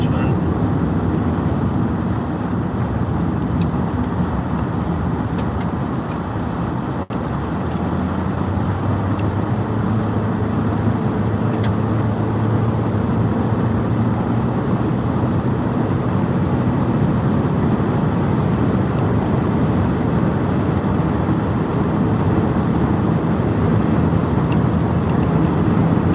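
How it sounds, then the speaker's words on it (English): Steady broadband roar of a car driving into a strong wind ahead of a storm in the Texas Panhandle, with continuous wind buffeting and road noise that holds level throughout, close and loud. "Now I'm going to be driving into the wind."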